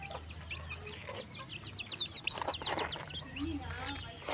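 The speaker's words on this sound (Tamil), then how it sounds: "நம்ம கோழிங்க." Chickens cluck and chatter in a quick burst of calls over a low background hum, fairly close by.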